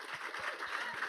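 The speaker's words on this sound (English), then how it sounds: "Let's get a round of applause for that, right?" An audience claps in a brief, steady burst of applause at a women's sports panel event in Cannes, the crowd noise dense and moderately loud for about a second.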